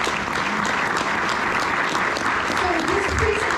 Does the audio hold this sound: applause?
yes